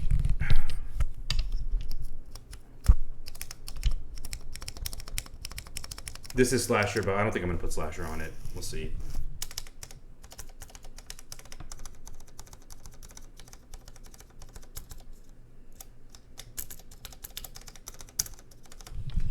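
Typing on a custom-built GODSSON Dark Ex Ecliptica mechanical keyboard, with dense rapid clacks throughout and a few louder strikes, heard under someone talking partway through.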